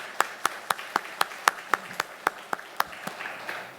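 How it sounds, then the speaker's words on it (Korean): A church congregation at a Wednesday service claps in welcome. The applause comes as a steady run of about a dozen sharp, evenly spaced claps that grows into a looser, softer patter toward the end, with no talking. "자리에서 일어날 때 우리 환영하면서 박수 한번 하겠습니다."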